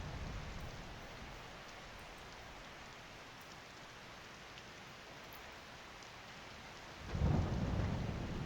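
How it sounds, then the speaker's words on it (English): Steady hiss of rain falls throughout a Skyrim scene, with a deeper rumble of thunder swelling up near the end; no one speaks. "Thunder and lightning."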